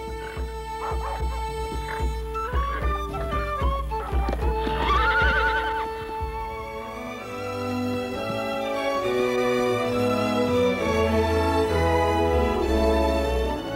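A horse neighs and whinnies loudly with clip-clop hooves over Irish farmland, the calls rising and falling across a steady musical background, with no talk.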